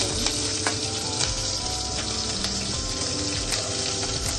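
Oil sizzles in a pan during tempering, with chopped garlic and onion going in, a loud continuous close frying crackle with occasional pops and light stirring.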